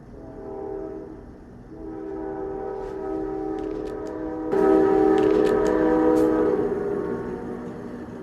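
Train passing close by with a sustained, loud horn blast, the horn tone swelling and strengthening midway over a rumbling rail bed, heard alone without voices.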